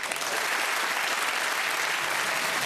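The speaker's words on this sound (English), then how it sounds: "please give a big round of applause and say goodbye to Mike and the team" A studio audience on a British game show gives a big round of applause, dense, even clapping held steady at moderate loudness for a few seconds.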